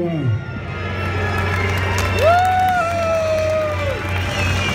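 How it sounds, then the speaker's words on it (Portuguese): Crowd at a large street rally in São Paulo, cheering and clapping in a busy open-air wash of voices, with shouts and whoops rising over the steady crowd noise. "prestassem uma salva de palmas ao menino Juan"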